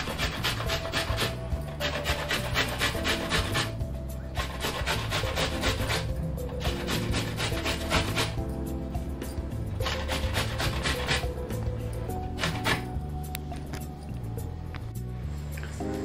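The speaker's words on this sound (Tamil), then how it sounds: "நெல்லிக்காயெலாம் இதில் துருவியாச்சு" Indian gooseberries (amla) are rubbed against a hand grater in quick, rhythmic back-and-forth scraping strokes that continue steadily and close up for the whole stretch, with brief pauses between runs.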